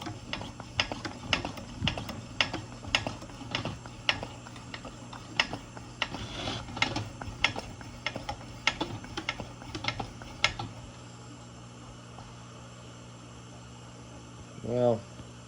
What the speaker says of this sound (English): We're going to go ahead and pump this thing up and see if the check valve is working.